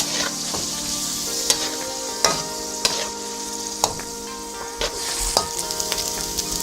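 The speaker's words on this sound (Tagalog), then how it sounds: "Ipiprito po pala, hindi gigisa." A bean sprout (togue) dish fries in a pan with a steady sizzle, punctuated by sharp utensil scrapes and clacks against the pan at irregular intervals, close and clear with no talking.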